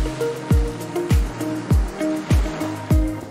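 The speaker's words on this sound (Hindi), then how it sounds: "हाई टाइड और लो टाइड की जो लहरें होती है वो इन पत्थरों से टकराकर धीमी पड़ जाती है" Sea waves strike the stone tetrapods along Marine Drive in Mumbai in a steady rhythm of about six close, heavy splashes, each trailing off in a wash of water.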